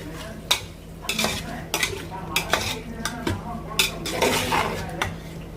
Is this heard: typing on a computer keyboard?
no